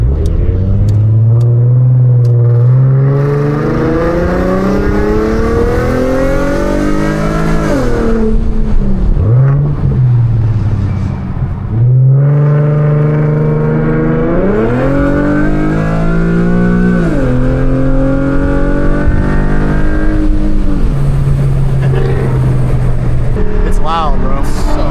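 Straight-piped Infiniti Q50s sedan engine revving hard and accelerating, its loud raw exhaust rising and falling in pitch through repeated pulls and gear changes, close and continuous throughout.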